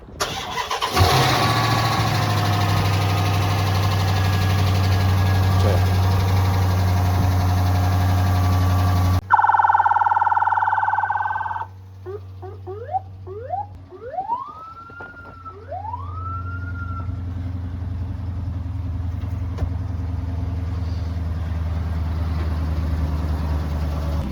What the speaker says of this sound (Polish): nie przejdziesz obojętnie obok tego bolidu policyjnego z Beverly Hills. Zobacz jak brzmi.